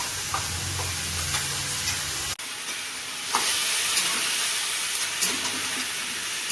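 A paste of ginger, garlic, onion and green chilli frying in a pan while lau chingri (bottle gourd with prawns) is cooked, giving a steady close sizzle that cuts sharply at one point, then resumes louder with light stirring scrapes.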